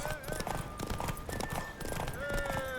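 Rhythmic hoofbeats clatter with a horse's whinny amid game music and effects in The Witcher 3 on PS5, with voices speaking over the action.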